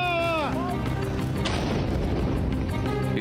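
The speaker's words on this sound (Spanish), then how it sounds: "Ese es el momento en que cae la bomba." A bomb falls and explodes in war footage from Ukraine, a descending whistle dropping into a heavy, rumbling blast that spreads into debris noise, with a second rising whistle near the end.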